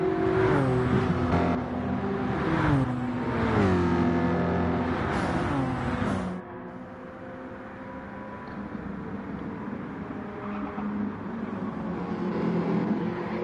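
Race cars in a PlayStation touring car racing game at Barcelona-Catalunya roar loudly, the engines rising and falling in pitch through several gear shifts. The roar then drops to a steadier, quieter drone.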